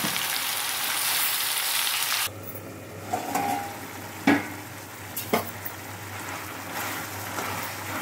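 Chicken sizzling and frying in a pan with ginger garlic paste, a steady loud hiss at first, then quieter crackling with occasional stirring scrapes.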